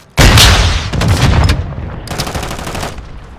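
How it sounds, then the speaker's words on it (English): A friendly airstrike in Call of Duty hits suddenly, with a sharp loud blast followed by rapid rattling bursts and rolling booms that thin out into scattered cracks, loud and close with no talking. "Friendly airstrike in the AO."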